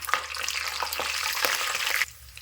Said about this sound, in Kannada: ಮಸಾಲೆ ಎಲ್ಲ ಒಂದು ಸ್ವಲ್ಪ ಎಣ್ಣೆ ಒಳಗೆ ಫ್ರೈ ಅಲ್ರಿ